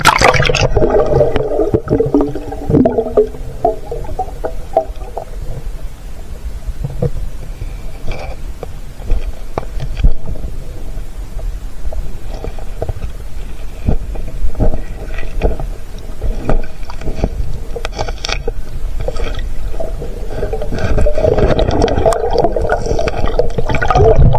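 Rough sea waves slap and wash around a small fishing boat, a loud continuous churn of splashing water and hull knocks, with no talking.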